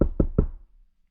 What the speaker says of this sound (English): there's a knock on the door